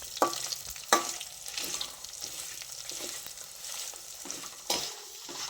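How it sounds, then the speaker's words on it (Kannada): Urad dal frying until golden in a pan, with a soft steady sizzle broken by several sharp stirring scrapes and clinks of the spoon. "ಈಗ ಉದ್ದಿನ ಬೇಳೆ ಗೋಲ್ಡನ್ ಕಲರ್ ಬರೋವರೆಗೆ ಫ್ರೈ ಮಾಡಬೇಕು."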